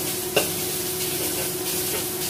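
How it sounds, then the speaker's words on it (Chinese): Chopped beef sizzles steadily in a hot pan as it is pan-fried and stirred for West Lake beef soup, a close, continuous hiss with one brief spatula knock near the start. "煎煎啊啲牛肉。"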